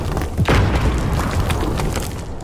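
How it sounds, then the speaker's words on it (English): A precision airstrike explodes in Call of Duty multiplayer with a deep, booming blast and a rumbling tail, accompanied by scattered crackles and thuds of gunfire across the battlefield. "Friendly precision airstrike on the way."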